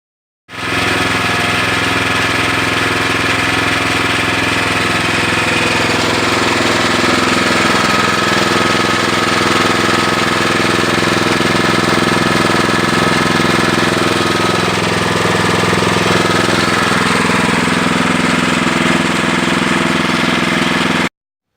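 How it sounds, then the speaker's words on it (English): Predator engine on a Sears Suburban 301 garden tractor running steadily at idle while warming up, a loud continuous mechanical drone with knocking rhythm, close and unbroken, no talk. "I'm going to start it up, let it run for about 5-10 minutes and let it warm up good"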